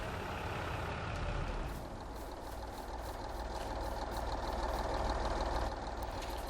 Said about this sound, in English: I think we can sneak the truck through here